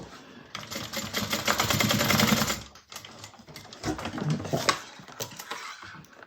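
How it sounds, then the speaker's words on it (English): A sewing machine stitches down a bag strap in two sustained, fairly loud runs, with a brief pause near the middle before the motor starts again; no one speaks. "So now I'm just going to sew this down again like I did the other side."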